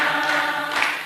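A church congregation clapping along to a worship song, the claps blending with singing and music in a short, busy stretch.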